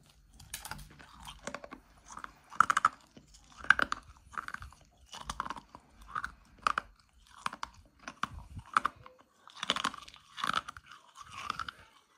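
Close, crisp chewing of crunchy 1989 Batman bubble gum from a trading card pack, with repeated moist crunching bites in an irregular rhythm and short pauses between them, heard alone without talking.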